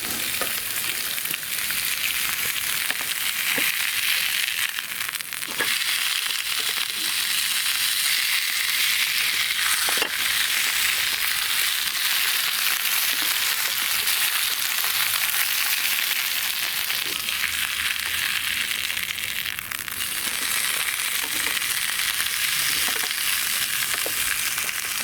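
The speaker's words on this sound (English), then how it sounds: "Give me a little reggae stir fry, another little stir about." A jerk stir fry sizzles on a twig stove outdoors. It makes a steady, loud, close frying hiss throughout, with faint scrapes and clicks from stirring and no voices.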